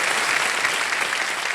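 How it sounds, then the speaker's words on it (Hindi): Studio audience applause at a televised quiz show, a dense steady burst of clapping filling the whole short stretch with no voices. "तालियां बज जाएं इनके लिए।"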